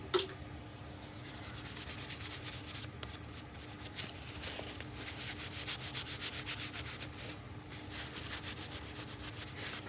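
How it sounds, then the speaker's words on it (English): Hands being rubbed together while cleaned with rubbing alcohol, a continuous close friction swish with rhythmic pulses and no voice. "I'm just cleaning off my hands with some rubbing alcohol."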